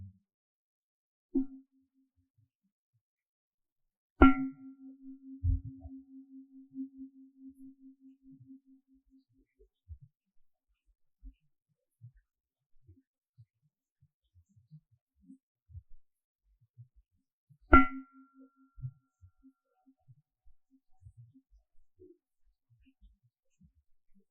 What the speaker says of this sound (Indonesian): kita sama-sama mendengarkan 3 suara gong